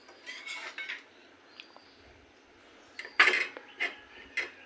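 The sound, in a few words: covering a pot of mango dal with a lid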